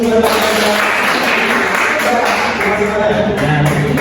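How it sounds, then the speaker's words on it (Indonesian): A classroom of students claps hands together during a university math lesson on prisms, a dense, steady patter of many hands that fills the room without a break. "Oke, sudah tepuk tangan dulu."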